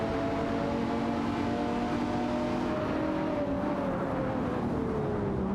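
Race cars in an AI-driven racing event drone past with steady engine whine, pitch sliding gradually lower as the field runs close together; loud and continuous with no voices.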